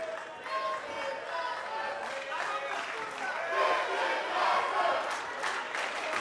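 A crowd cheers and shouts at a live wrestling match, a noisy, swelling roar of voices that builds toward the middle and stays loud, with a commentator talking over it.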